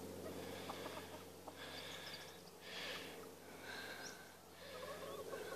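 Backyard chickens clucking and murmuring around a chook feeder, a steady low chatter of several birds close by with soft intermittent calls throughout.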